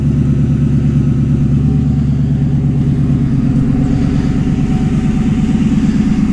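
A 2011 Ford Crown Victoria exhaust note at a steady idle, a low, even, throbbing rumble that holds constant throughout, close and loud.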